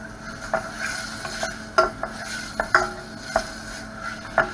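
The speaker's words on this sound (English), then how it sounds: "So you're stirring this constantly." A mixture for a quiche is stirred constantly in a pan on an electric hob, a spoon scraping and clicking against the metal in irregular close strokes over a soft sizzle.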